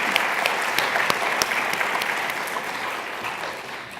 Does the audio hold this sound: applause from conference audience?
yes